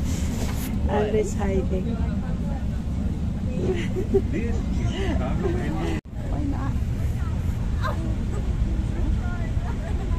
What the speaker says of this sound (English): This is a blue line train.